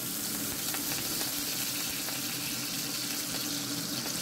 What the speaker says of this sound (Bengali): তেল গরম হয়ে গেলে এখানে আমি দিয়ে দিচ্ছি একটি পেঁয়াজ কুচি।